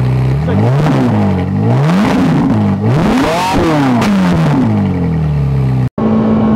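A Ferrari 458 Italia engine revs hard and loud, rising and falling in repeated sweeps, then cuts off abruptly before a brief higher idle.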